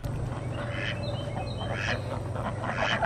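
Ducks quacking in a coop, a few moderate nasal quacks scattered over a steady low hum of background noise, no speech.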